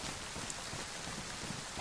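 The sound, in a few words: rain falling in video game DayZ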